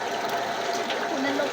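Water rushes steadily into a tank at close range, a continuous hissing fill with no pauses.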